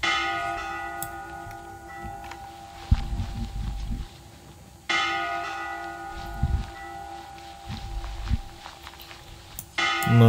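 A large bell in the horror game Layers of Fear 2 is struck twice, about five seconds apart, each loud clang ringing out in a long, slowly fading hum, with low thuds and soft footsteps between strikes.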